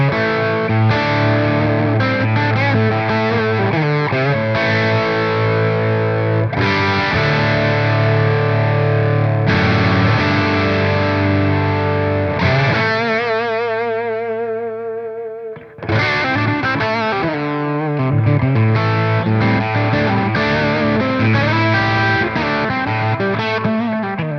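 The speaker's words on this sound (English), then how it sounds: "Now I'll go to just the bridge position turned up, and you'll hear how rock out this amp can get" Heavily distorted electric guitar on the bridge pickup played through a Metropoulos Superplex tube amp, loud sustained chords ringing out with a brief pause before the riffing resumes.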